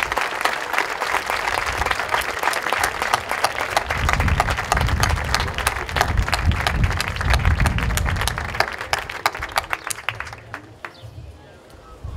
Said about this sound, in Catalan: un fort aplaudiment per als candidats que no han sortit escollits